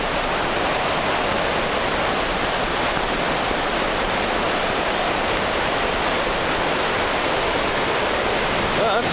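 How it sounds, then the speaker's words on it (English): A mountain river in the Alps rushes in a steady, loud, broadband roar of churning water, close by and unbroken throughout. "Well, that's quite some little river there."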